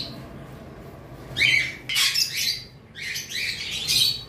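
A pair of sun conure parrots giving loud, harsh squawks in three bursts, close by after a quiet start, with no talking.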